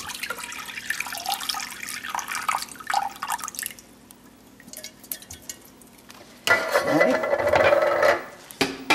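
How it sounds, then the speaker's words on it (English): Beef broth poured from a can into a slow cooker: a steady liquid splashing and trickling that grows louder and fuller near the end, set against kitchen background noise. "And I just pour a can of beef broth in there."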